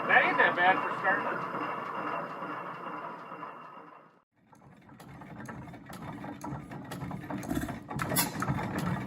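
An antique early-20th-century hit-and-miss stationary gasoline engine runs with a steady mechanical clatter and chug. It drops out briefly around the middle, then resumes close by with sharper knocks, mixed with a voice-like sound near the start.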